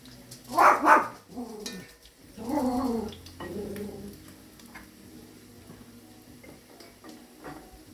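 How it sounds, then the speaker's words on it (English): A house dog barks indoors in a home kitchen, a few loud barks up front followed by a quieter run of gruff barks and softer yaps fading into background noise. "I got a hard-headed dog. She likes to bark at everything, any noise"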